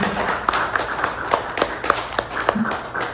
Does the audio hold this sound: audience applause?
yes